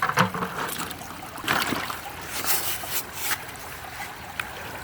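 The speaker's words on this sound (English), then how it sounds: "I have fixed my velocity issues by moving the sluice down the hill a little bit so the water's flowing a little faster when it hits the entrance" Water rushing steadily through a six-foot gold prospecting sluice set on a hillside stream in Wisconsin, a continuous close splashing gurgle with brief brighter sprays.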